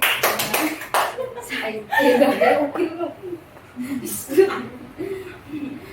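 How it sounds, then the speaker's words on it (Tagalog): A class of schoolchildren in a Grade 5 social studies lesson gives a few quick rhythmic claps together at the start, followed by scattered chuckles, laughter and chatter in the room. "Bigla ng tatlong palakpak si Zay."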